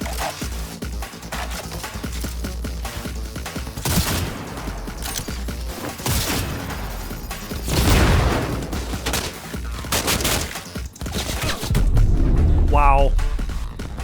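Enemy gunfire in the video game Cyberpunk 2077, with heavy bursts and booming shots over a dense combat din, and someone talking over it.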